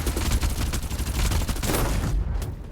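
Rapid gunfire in the battle royale video game Farlight 84, a dense burst of overlapping shots and booms, loud and continuous before tapering near the end.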